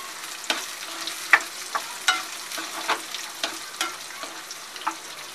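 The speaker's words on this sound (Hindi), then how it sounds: "मेवा में हमें इतना ही भूनना होता है कि इसमें से अच्छे से खुशबू आने लगे" Dry fruits and pistachios roasting in a pan on low heat, giving a soft, faint sizzle broken by scattered light clicks and scrapes of stirring.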